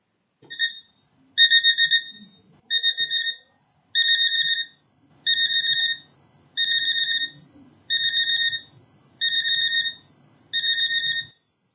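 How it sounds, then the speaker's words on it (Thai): An electronic alarm clock rings in repeated beeping bursts, evenly spaced, loud and clear with nothing else going on. "ต่อมาครับเสียงนาฬิกาปลุกนะครับจะเป็นเสียงยาว นั่นเอง"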